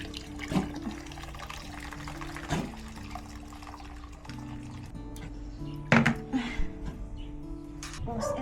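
Warm water runs into a basin being readied to bathe two pets, a steady low trickle with a few louder splashy bursts, moderately quiet and close, with faint voices in the background.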